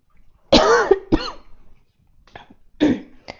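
A few short, rough throat-clearing bursts close to the mic, with quiet pauses between them and no talking.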